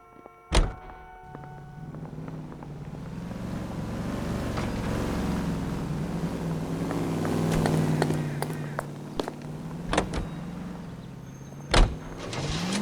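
A car drives in the L.A. Noire video game, a steady engine hum running throughout with a few sharp thunks and clicks along the way and no talking.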